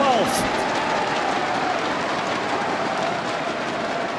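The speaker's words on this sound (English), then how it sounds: "And the sound of the crowd." Crowd roaring and cheering at a CS2 esports semi-final at IEM Dallas 2024, a dense, steady wall of arena noise filling the whole stretch with a commentator's voice faintly underneath.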